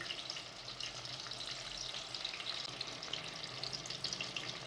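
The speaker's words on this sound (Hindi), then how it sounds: "थोड़ा सा इसको मिक्स करेंगे लहसुन अदरक के साथ, फ्राई करेंगे इसको।" Whole spices with garlic and ginger fry in hot oil, giving a steady, dense sizzle and crackle that stays even and fairly close throughout, with no voices.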